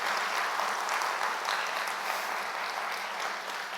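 A church congregation applauds the choir members, a dense, steady burst of clapping that fills the room from start to finish.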